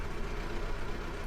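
A 1974 BMW E12 520, revived after more than ten years unused, idles with a steady low engine rumble, close and continuous, with no voices over it.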